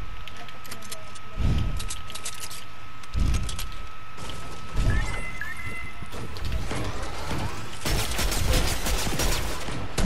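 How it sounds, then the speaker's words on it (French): Rapid automatic gunfire from a minigun in the Fortnite video game, heard in several loud bursts of crackling shots under ongoing game noise, growing dense and continuous toward the end. "Que des balles de minigun."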